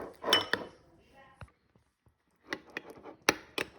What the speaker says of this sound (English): We'll mix it all up